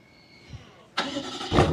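A BMW M850i Gran Coupe M Heritage Edition, started by remote from the key fob, cranks and fires with a sudden loud burst, then settles briefly before a second swell of exhaust at close range.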